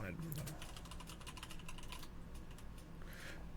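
Quick bursts of clicks from a computer keyboard being typed on, fairly close and steady for a couple of seconds, then a brief pause before a few more keystrokes.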